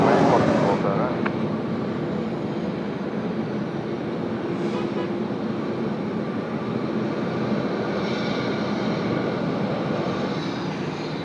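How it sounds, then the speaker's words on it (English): An Air Canada airliner rolling for takeoff on runway 34 left at Sydney Airport, a steady broad roar of jet engines heard from a distance, continuous and fairly loud throughout. "Air Canada now to roll on runway 34 left."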